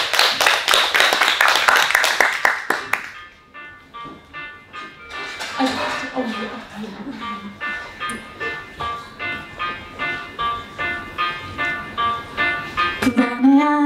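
An audience at an independent bookstore book concert claps in a dense, lively burst for a few seconds. Then a song with a gentle accompaniment begins, and light rhythmic clapping continues under the music.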